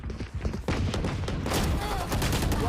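Rapid gunfire crackles in a competitive Valorant esports match, a burst of close shots and impacts building into a dense rattle, while a caster's voice runs underneath.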